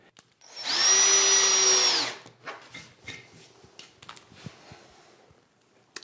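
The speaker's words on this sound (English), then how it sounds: "pre-mark or pre-drill your holes, taking care that your drill bit doesn't go all the way through the panel" Power drill runs steadily for about a second and a half while boring a hole into an overlay door panel, loud and close with a whining tone, then stops, followed by faint handling clatter and scraping.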